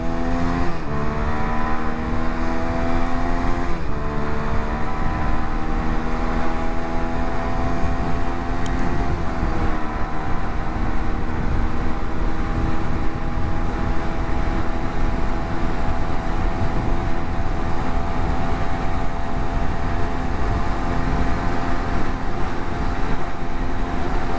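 An SRK 125 S motorcycle engine revs and accelerates on a road, a loud continuous engine drone with rising pitch through gear changes under heavy wind rush, near and sustained throughout.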